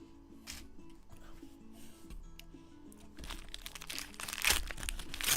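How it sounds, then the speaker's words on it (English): Parchment paper crinkles and crackles close by during breakfast, with irregular crisp rustles that grow busier and louder toward the end. "I'm trying to eat my breakfast and it's sticking to the parchment paper."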